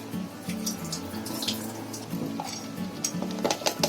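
Water poured off soaked lentils in a home kitchen, a continuous close splashing trickle into a sink with light clinks of a metal vessel, no talking.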